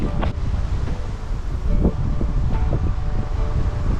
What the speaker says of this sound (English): Back on the tarmac, it's getting windy.